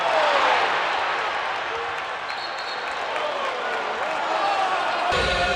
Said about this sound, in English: Check out the crowd.